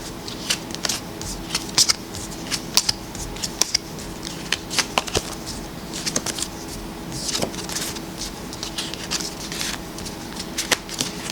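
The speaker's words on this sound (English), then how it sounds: "I'm gonna actually go ahead and start flipping these one by one." Trading cards from a pack flipped one by one, with soft scattered card snaps and papery flicks in a quiet room, irregular and close.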